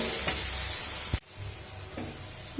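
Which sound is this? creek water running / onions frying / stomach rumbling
onions frying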